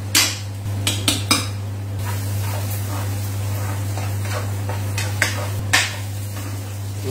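Onions for a fish curry with taro are stirred in a pan, with sharp metallic clanks and scrapes of the utensil against the pan over a constant low electrical hum, without speech.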